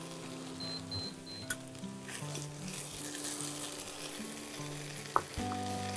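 Potatoes fry in a pan for a railway-style mutton curry, a soft steady sizzle with occasional clatters of stirring and a low background hum.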